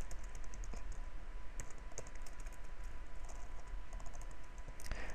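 An email address is typed on a computer keyboard in quick, close key clicks forming an uneven, steady patter over faint background hiss, with no talking.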